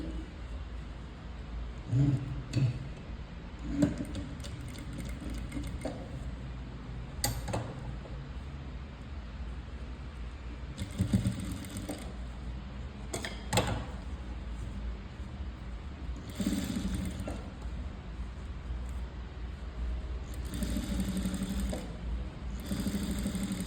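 A sewing machine stitches thread piping onto fabric, its motor whirring in short and longer bursts separated by pauses, moderately close and steady, with no talk over it.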